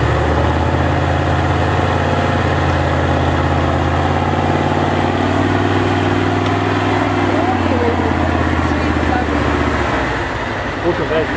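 A modified V8 engine in an off-road race truck idles at an off-road racing event, a loud, steady low rumble with a slight wavering that eases near the end. Traffic noise blends in, and a voice is faintly present.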